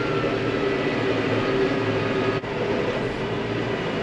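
A tractor engine runs at a steady, droning idle during silage baling, a constant low rumble that holds close and unbroken throughout.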